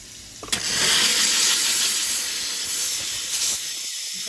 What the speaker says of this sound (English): And now we'll hit it with some steam.